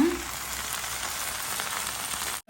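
Ginger garlic paste fries in a hot pan with a steady, close crackling sizzle that runs unbroken before cutting out abruptly at the end.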